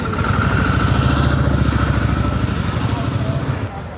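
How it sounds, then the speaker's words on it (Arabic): Harley-Davidson motorcycle engines throb close by with a loud, low, steady rumble and faint mechanical clatter that holds for a few seconds before easing off at the end. "مواتير الهارلي"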